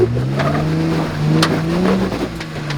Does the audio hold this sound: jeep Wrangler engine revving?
yes